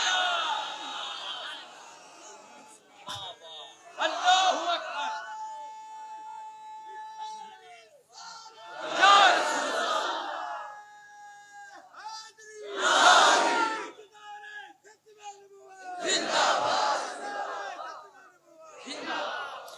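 A crowd at a madrasa gathering chants religious slogans in loud, rhythmic bursts roughly every few seconds, with short pauses of quiet between each shouted round.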